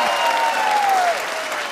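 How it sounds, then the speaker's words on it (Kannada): Studio audience applauding on a game show, dense and steady clapping throughout at close range, with a thin sustained tone briefly riding over it. "ಚಪ್ಪಾಳೆ"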